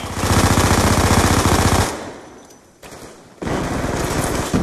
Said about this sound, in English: they're shooting the kid!